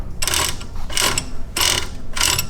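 A mini bike chain and clutch turned over by hand with the clutch pulled in give four bursts of close metallic ratcheting and clicking, each about half a second, with short pauses between.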